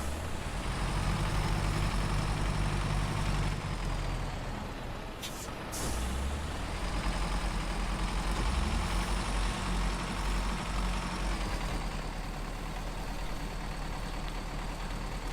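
Heavy truck engine in SnowRunner drones steadily as it builds speed for a running start, with a sharp air-brake hiss near the middle and a continuous low rumble throughout.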